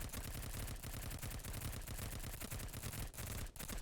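AK-15 rifle fire in the mobile game Girls Frontline comes as dense, rapid automatic bursts that continue almost without pause, loud and layered over other battle effects.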